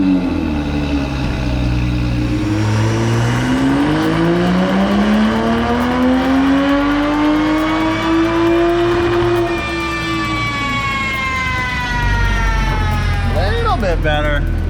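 A race-gas-fuelled car engine revs hard on a dyno, its pitch climbing steadily and loudly for a sustained run before dropping off and blipping again near the end.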